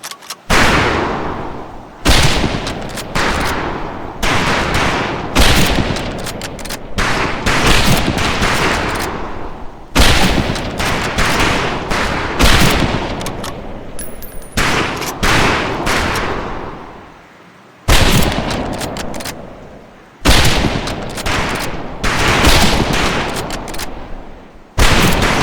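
Rifle fire on a firing range in the Medal of Honor: Pacific Assault video game, with loud repeated volleys of shots in bursts separated by brief pauses, with no talking.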